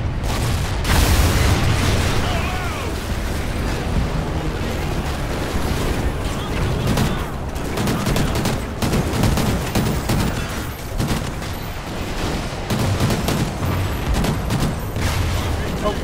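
Continuous gunfire and heavy explosions from the shooter Call of Duty: Ghosts, played on PC, with dense rattling bursts and booming blasts filling the whole stretch at steady high loudness, with voices talking over the din.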